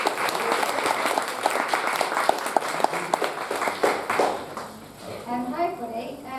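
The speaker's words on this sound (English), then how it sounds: "So, big round of applause." A conference audience applauds for speaker Dani Molyneux of Dotto Studios, dense clapping close and steady for several seconds, then fading out as a voice begins talking near the end.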